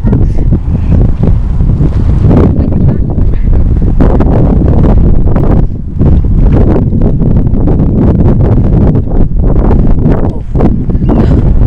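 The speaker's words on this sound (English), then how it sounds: "God, it's so windy." Strong wind in Dunfermline buffeting a microphone with a loud, continuous roar and rumble, no letup throughout.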